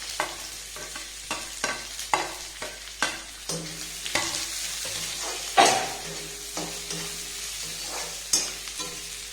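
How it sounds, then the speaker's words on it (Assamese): Onions and bay leaves fry gently in oil on a low flame for pulao, a quiet sizzle broken by repeated stirring scrapes at an uneven rhythm, with no voices. "পিঁয়াজখিনিয়ে তেজপাতখিনিয়ে ধুনীয়াকৈ ভাজি আছে।"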